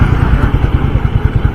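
In a town near a flyover in Medinipur, a motorcycle engine drones loud and close, a steady throbbing mid-pitched rumble holding through the short moment without any talk.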